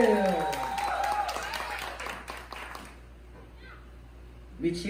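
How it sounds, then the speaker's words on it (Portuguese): An audience applauds and cheers after a sensual bachata dance show at a Rio de Janeiro event, a loud burst of clapping with crowd voices that fades out after about three seconds, leaving near silence. "Uma salva de palmas para ela, Tatiana!"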